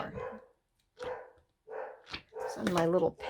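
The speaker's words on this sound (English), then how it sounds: "You can hear my girls barking." Several small pet dogs bark in short bursts indoors, a few sharp yaps spaced out with pauses, moderately close, mixed with someone talking.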